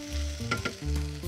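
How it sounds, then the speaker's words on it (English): Browning meat sizzles and crackles in a hot pan while being stirred, a steady close frying hiss with a few scraping bursts from the stir, no voices. "I can hear my meat getting nice and brown,"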